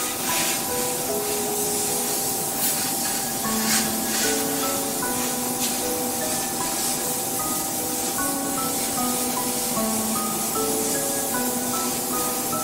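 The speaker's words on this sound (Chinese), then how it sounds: "全脸喷雾5至8分钟。" A water-oxygen spray pen loaded with toner mists the face, making a steady, close hiss that runs the full length beneath a soft tonal melody.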